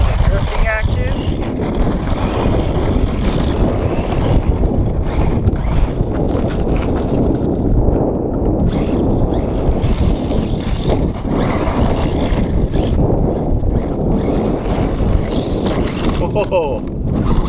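A cheap mini RC boat running on water, its small motor droning steadily with constant water splashing and wind noise across the whole stretch, loud and close.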